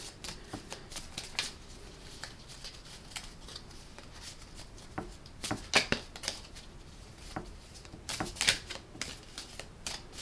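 A deck of cards being shuffled, with quick papery riffles and flutters coming in short bursts and two louder clattering riffles near the end, close up and with no talking.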